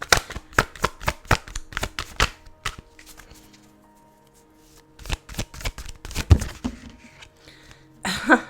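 Tarot cards being shuffled and drawn by hand: quick bursts of crisp riffling snaps, a quiet pause, then more shuffling clicks and a final card flick, close and alone without talk.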